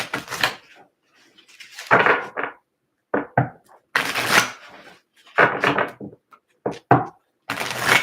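A deck of gold foil tarot cards is shuffled in several quick bursts of crisp riffling and slapping, separated by short pauses; no one speaks.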